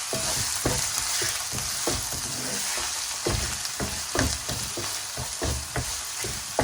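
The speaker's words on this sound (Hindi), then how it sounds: "प्याज को सौते कर लेंगे।" Chopped onions, two medium ones, sauté in hot oil in a kadai, a steady close sizzle with intermittent scraping stirs and clinks of the spatula throughout, no voices.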